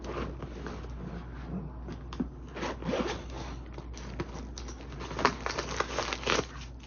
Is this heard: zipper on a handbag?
yes